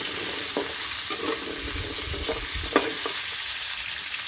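Potatoes, raw rather than boiled, fry in oil in a pan with a steady, close sizzle and occasional stirring scrapes and clinks, and no one speaks.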